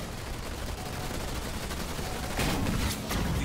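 Rapid gunfire from units battling in Halo Wars 2, a dense steady fusillade of shots throughout with a louder burst of impacts near the end, no talking.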